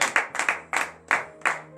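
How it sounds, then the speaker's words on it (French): Congregation clapping in acclamation during a Wednesday morning prayer service in Comè, Benin: a loud, steady rhythm of hand claps, about six sharp bursts close together, with no talking. "Donnez de vive acclamation à l'Éternel."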